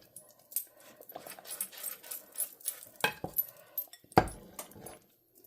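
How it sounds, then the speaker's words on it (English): A spoon stirs Swiss cheese into a thick lima bean casserole until it melts, making close, irregular clinks and scrapes against the pot with short quiet gaps between strokes. "we're just going to stir it till it's melted"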